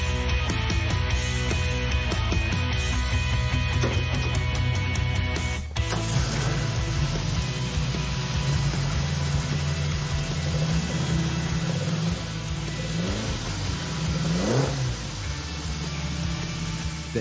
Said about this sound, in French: notre expert savoure ce son si typique du moteur Flat 4